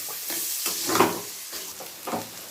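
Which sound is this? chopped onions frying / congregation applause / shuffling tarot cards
chopped onions frying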